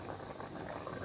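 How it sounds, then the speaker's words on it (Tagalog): A pot of chicken adobo boils vigorously nearby, a steady dense bubbling and gurgling with no pauses. "Ayan, kumukulo na po yung adobong manok natin."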